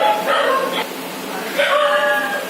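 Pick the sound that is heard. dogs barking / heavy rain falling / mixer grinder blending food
dogs barking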